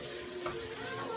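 Onions fry in a pan for a homemade pasta sauce, a quiet, steady sizzle and crackle heard close up with no talking.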